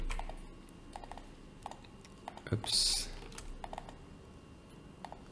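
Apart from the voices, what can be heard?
typing on a computer keyboard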